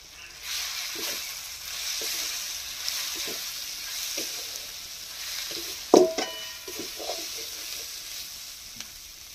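Spices with turmeric powder fry in oil in a pan for a Bengali potol (pointed gourd) dish, giving a continuous close sizzle under soft stirring scrapes, with one sharper clatter of the utensil midway.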